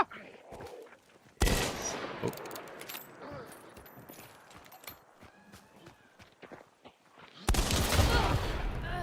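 Gunfire erupts in a Hunt: Showdown match, loud abrupt bursts at the start and end with scattered sharp cracks, footsteps and clatter between, and a person speaks briefly.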